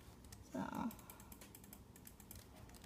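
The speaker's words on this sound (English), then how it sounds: "sorry if you can hear my clicking." Faint computer keyboard typing and mouse clicking tick softly during Minecraft play, with a brief louder burst near the start and light rapid taps continuing at a low level.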